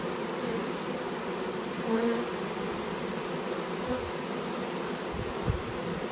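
Honeybees from a newly installed package buzz in a steady, dense drone nearby, with an occasional louder hum as one passes close.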